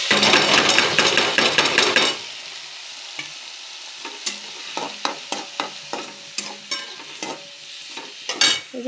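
Lentils tip into hot oil tempered with a piece of cinnamon, setting off a loud burst of sizzling for about two seconds, followed by quieter frying and scattered metallic clinks from stirring in the pot.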